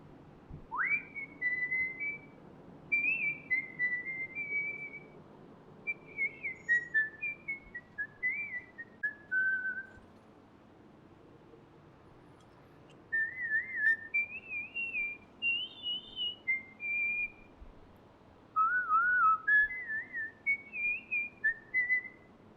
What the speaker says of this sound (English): Your whistling did call a bird somewhere.